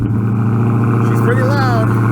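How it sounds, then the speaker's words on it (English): Dodge Hellcat with stock exhaust idling loudly after a cold start, a steady deep rumble throughout, with a brief rising tonal sweep near the end. "Let's give her one last cold start to see how she sounds before we do the new MBPR exhaust."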